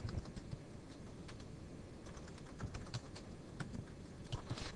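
Quiet, steady keystrokes clatter on a computer keyboard, a continuous patter of individual taps with occasional heavier key presses, close and soft with no talking.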